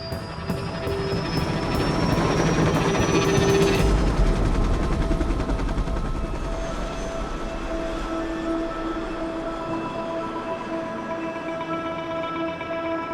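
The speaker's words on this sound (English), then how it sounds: "The boy's mother has travelled with him in the helicopter" A helicopter airlifting a patient: its rotor thumps rapidly at first, then a loud, steady mechanical whine and engine drone fill the cabin, continuing without pause.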